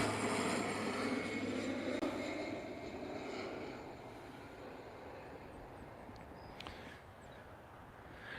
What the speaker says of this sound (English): I'm going to wait till this beautiful plane flies over.